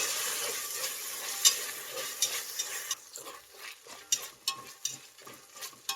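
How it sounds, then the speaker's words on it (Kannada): Fresh green peas are stirred into a sizzling tomato pulao masala with ginger-garlic paste in a pan. Close scraping stirs and gentle frying crackle come in irregular bursts, with no talking. "ಒಂದು ಅರ್ಧ ಕಪ್ಪಷ್ಟು ಹಸಿ ಬಟಾಣಿ ಮಿಕ್ಸ್ ಮಾಡಿ"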